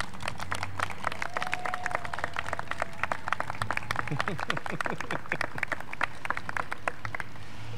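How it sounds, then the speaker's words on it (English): A small group at a civic Mayor for the Day event claps steadily for several seconds, the rapid overlapping claps close and lively before tapering off near the end. "let's give her a round of applause"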